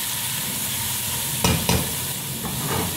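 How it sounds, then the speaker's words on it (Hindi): Carrots and cabbage stir-fried over high heat for egg fried rice sizzle loudly and steadily, with a few sharp scraping stirs of the utensil against the pan and no talking. "इसको मिक्स करेंगे अच्छी तरह से तेज आंच पे"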